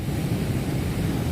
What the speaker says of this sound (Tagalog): Sabi, solid na lalaki ng alon.